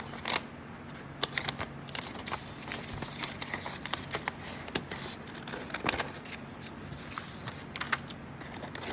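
Scissors snipping eye holes in a paper mache mask: rapid, repeated close crisp cuts and paper crinkles in quick irregular succession, fairly quiet and alone without talk.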